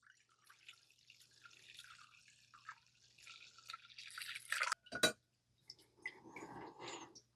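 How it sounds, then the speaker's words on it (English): Curdled milk liquid poured through cheesecloth set in a strainer, with a broad wet splash of pouring followed by close trickling and dripping, a few clinks near the end, no talking. "let's see what happens when we pour this in and begin our straining process"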